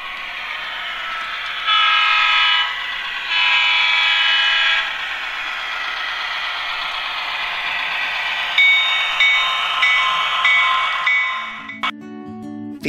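An Athearn Genesis model diesel locomotive with digital sound gives several loud horn blasts over a steady engine rumble, ending with a short bell or chime, with no talking.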